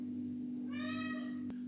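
A cat gives a single clear meow lasting under a second, close and fairly loud over a steady low electrical hum, ending with a faint click.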